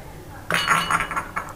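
Dishes clatter suddenly in a home kitchen, a bowl and other crockery clinking and knocking together in a quick burst of sharp ceramic hits after a quiet start.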